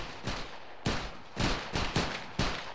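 Musket volleys fired by a line of soldiers in the video game Battle Grounds III, several loud crackling bursts of gunfire roughly every half second, ragged and overlapping, with no talk.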